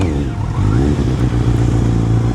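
A Kawasaki 900cc superbike on its original exhaust idles loud and close in a parking spot in Pattaya, Thailand, giving a steady, throbbing engine note with no voices over it.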